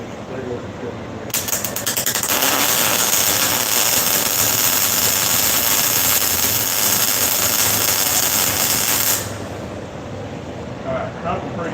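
An arc welder lays a bead with the torch pushed forward, a loud, steady crackling buzz that starts abruptly, holds for about eight seconds, then cuts off, with faint background noise around it.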